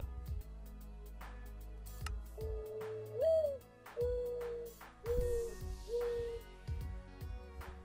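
Several short tonal bird calls from a parrot-like bird in a Minecraft-style blocky game, rising chirps and warbles repeated every second or so over quiet ambient game music, fairly soft and close.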